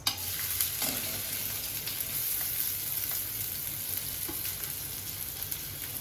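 Finely chopped onion frying in plenty of hot oil, a steady close crackling sizzle with a few faint spoon taps, no voices.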